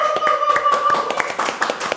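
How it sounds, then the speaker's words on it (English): An assembled audience claps in a round of applause at a Eurovision rehearsal event, quick irregular hand claps with a sustained tonal hum running underneath. "I'm going to once again ask the assembled audience to give us a big round of applause."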